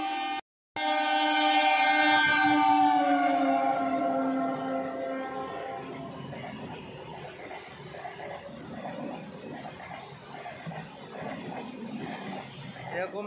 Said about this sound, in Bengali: ট্রেনটা যাক, তারপরে কথা বলছি।